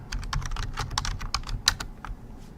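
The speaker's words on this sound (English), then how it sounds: "You can narrow your search by entering a keyword in the keyword" Keys clatter on a computer keyboard as a keyword is typed into a scholarship website's search field, a quick irregular run of close, crisp clicks with no voices.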